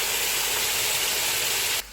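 Three tablespoons of water hit hot oil with whole spices and fried onions, bursting into a loud, dense, steady hiss that cuts off abruptly near the end.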